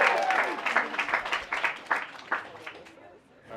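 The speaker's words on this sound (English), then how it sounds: "Give them all of our enthusiasm and our applause." An audience at an education design showcase claps in loud bursts of applause. The clapping comes in uneven waves and fades near the end, with some crowd voices mixed in.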